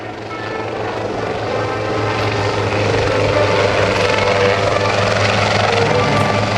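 A helicopter flies at a military air station airshow, its rotor and engine producing a loud, steady, throbbing drone that builds slightly and holds close and strong throughout, with no speech on top.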